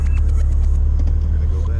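A car engine with a deep, steady rumble as the car rolls forward a short way, close and loud with no break. Someone talks briefly over it.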